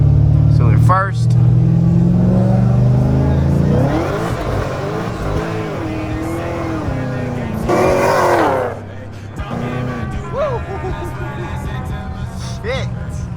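Car with a built transmission accelerating hard in a full-throttle pull, engine note climbing and dropping through several quick gear shifts, loud and close from inside, with someone talking over it.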